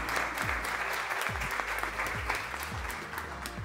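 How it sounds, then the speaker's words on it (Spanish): Strong audience applause at a women leaders' conference, a dense, sustained clapping that stays loud and even from start to finish. "lo que quiero es darles un fuerte aplauso por todo este trabajo de representación que tenemos en la AFA"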